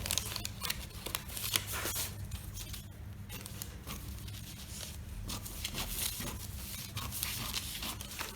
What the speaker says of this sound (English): the next thing is just to cut this front pattern